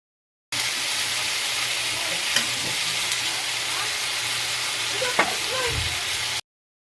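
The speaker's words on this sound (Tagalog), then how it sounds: "Nilagay, nilagay ko na ang sitaw. Ihalo-halo na natin yan." String beans (sitaw) being sautéed and stirred in a pan, a steady loud sizzling hiss throughout with occasional spoon scrapes and knocks against the pan.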